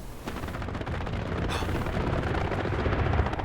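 Aircraft strafing run in Hell Let Loose, a continuous roar of heavy rapid gunfire and explosive rumble that stays loud and dense the whole way through, with no voices.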